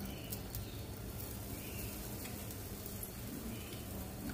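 Methi thepla flatbread roasts in a pan with oil poured around its edge over medium heat, giving a soft, steady sizzle and crackle throughout with no voices.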